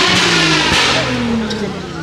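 A Nissan 350Z engine revs loudly and steadily nearby at a car meet, its pitch rising and falling slightly, with voices faintly audible underneath.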